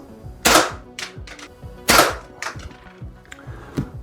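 Umarex SPA 60 air gun firing, two sharp loud cracks about 1.5 seconds apart with a fainter snap near the end, close and alone with no voices.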